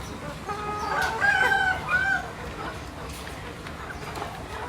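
Young laying hens in a coop built over water cluck and crow close by, a dense chorus of bird calls peaking in the middle of the stretch, with a voice faintly underneath.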